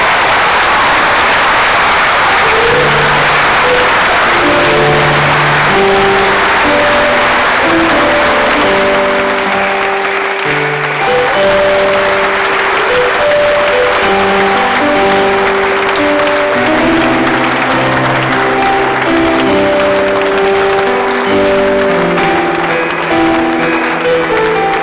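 A sustained loud round of applause from the audience at an honoring ceremony, with keyboard music playing steadily underneath throughout.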